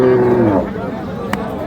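A Gir cow about fifteen months old gives a short, low moo at a rural cattle market. The call fades within the first half second and leaves a murmur of the crowd in the background.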